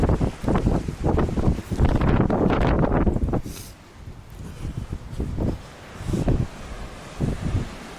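Strong wind buffets the microphone in a remote Russian village, loud gusting rumbles in bursts that ease off and return.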